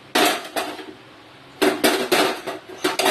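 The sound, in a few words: washed dishes and utensils being set down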